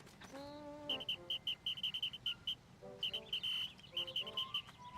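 A whistle in the Pikmin 4 video game sounds as a rapid series of short, high chirping pulses in bursts, with a brief rising tone at the start and no talk over it.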